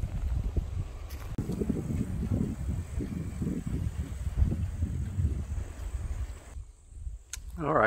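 Wind blows across an outdoor hammock and tarp campsite in uneven, rumbling gusts that buffet close by, with a brief voice at the very end.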